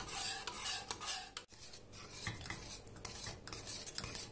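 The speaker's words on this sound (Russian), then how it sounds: "и постоянно буду перемешивать, пока не загустеет" A spoon scrapes and stirs custard cream cooking in a pot, with continuous rasping strokes against the metal in an uneven rhythm, close and steady, with no talking.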